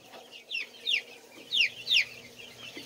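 Rooster clucking on a farm, several short sharp bird calls in a loose irregular rhythm, fairly close and moderately loud over a quiet background.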